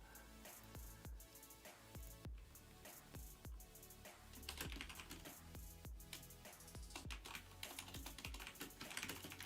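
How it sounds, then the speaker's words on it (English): Fast, uneven bursts of typing on a computer keyboard while an email is written, with close crisp clicks and heavier keystrokes, continuous and without talking. "I'm literally I'm typing an email to them on the air"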